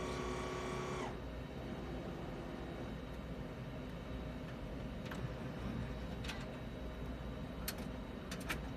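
Epson 7890 large-format printer, converted for DTF, running its initial ink fill to prime the cartridges: a steady mechanical hum and whir with a tonal whine over the first second, then continuous machine noise broken by a few faint clicks and ticks.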